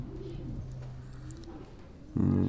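Andijan breed pigeons coo up close in soft low rolling calls, with a louder burst of cooing at the very end.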